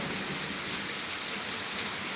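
Heavy rain pours steadily at Dalhousie, a dense, even roar of drops on surfaces, close and loud, with no voices and no break across the stretch.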